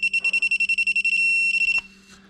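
A rapid series of high electronic beeps, then a short continuous tone and a few more quick beeps before stopping; close and fairly loud.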